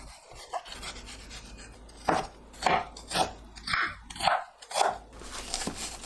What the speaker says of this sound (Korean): 양파를 작게 썰어 주세요.